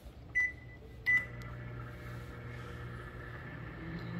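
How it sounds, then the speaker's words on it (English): A microwave oven switches on with a couple of clicks and then runs with a steady low hum, near and alone. "Turn on the microwave."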